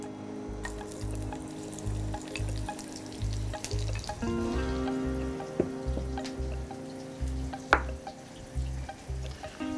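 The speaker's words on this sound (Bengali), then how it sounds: "আমরা এখন পেঁয়াজ দিয়ে দিব" Onions frying in ghee for bhuna khichuri, a faint, steady sizzle with occasional stirring clinks beneath background music.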